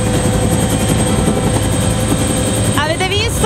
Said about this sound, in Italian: aiutare l'elicottero a stare in overing con una minore richiesta di potenza